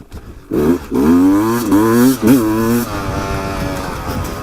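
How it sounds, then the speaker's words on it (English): A 2019 Beta 200RR two-stroke dirt bike climbs a trail in second gear, its loud, buzzy engine rising and falling in pitch through several revs before easing off to a lower drone. "nice second gear climb"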